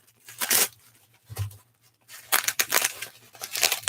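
Packing tape rips loudly off a comic book package in several close, harsh tearing bursts with short pauses between them.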